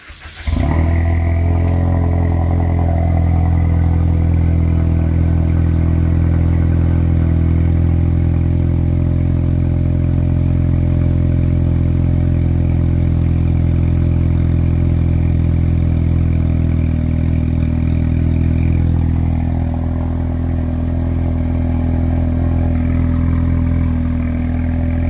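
A 2018 Ford Mustang EcoBoost four-cylinder engine with aftermarket exhaust idles steadily with a low, even exhaust burble and faint mechanical clatter, continuous and close throughout.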